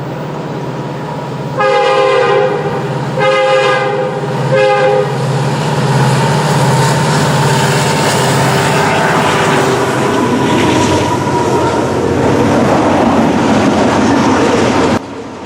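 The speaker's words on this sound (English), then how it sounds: "we then heard the rumble of the CP-led train coming up to the bridge" CP-led freight train approaching a bridge, a heavy continuous rumble close by with several loud horn blasts early on, the roar holding steady for over ten seconds before cutting off.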